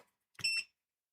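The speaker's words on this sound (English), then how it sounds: "I touched that and it beeped." An electronic device under repair gives one short, bright electronic beep at close range when touched, alone in an otherwise quiet moment.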